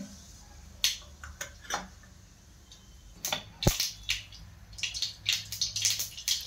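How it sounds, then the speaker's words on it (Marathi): Mustard seeds spit and pop in hot oil in a pan, scattered sharp crackles coming in irregular bursts that grow denser toward the end, close and fairly quiet. "आता तेलामध्ये मी मोहरी टाकून घेत आहे। मोहरी छान तडकून द्यायची आहे।"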